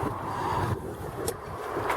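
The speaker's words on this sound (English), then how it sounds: "like these winds, like I say, being quite windy" Steady wind rushes and buffets a nearby microphone on an allotment, a broad low roar with a couple of brief sharper gusts or knocks.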